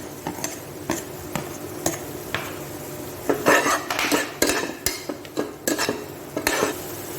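A spoon scrapes and clatters against a pan while tomatoes and onions with a little salt are sautéed for tomato rice, giving irregular sharp metallic knocks over a faint sizzle, close and without speech.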